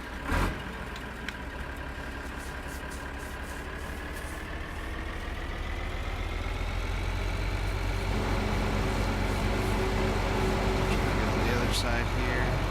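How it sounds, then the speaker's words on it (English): A tractor engine idles in Farming Simulator 2013 with a steady, low rumble. The pitch rises slightly partway through, and a person talks over it. "what I'm going to do is hop out of here and switch over to this tractor"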